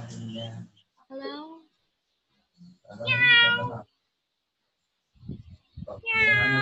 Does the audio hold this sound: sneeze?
no